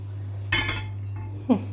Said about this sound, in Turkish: Çayları dolduruyorum da sesi karışmasın diye.